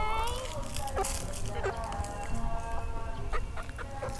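Chickens cluck and fuss close by while being fed grain by a father and child, short clucks and squawks scattered over several seconds with people talking throughout.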